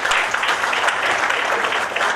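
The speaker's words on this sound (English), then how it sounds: "Can we have a big round of applause for that?" An audience claps steadily for a speaker honoured for women and children empowerment in India, a dense, even patter of many hands filling the whole short stretch at moderate volume.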